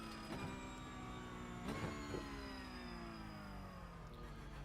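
Racing car engine in a video game race, its revs held low in second gear through a left-hand hairpin, the tone sliding steadily downward as the car decelerates, with a few brief clattering bumps.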